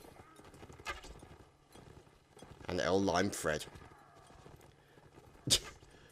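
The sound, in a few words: horse hooves galloping in Mount and Blade Warband video game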